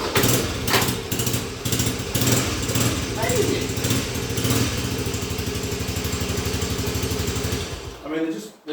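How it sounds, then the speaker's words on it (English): A postie bike with 45,000 kilometres on it, running after six months stored in a garage: a small single-cylinder engine putters with a steady, close throb, while someone talks over it briefly. "listen to this bike"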